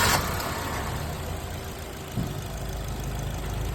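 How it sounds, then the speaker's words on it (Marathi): A car engine, just given an oil change after its old oil had turned to sludge, starts and settles into a steady, even idle with a brief surge partway through and no voices. "आपण आता ऑइल चेंज केलं आणि आता गाडी स्टार्ट करतोय."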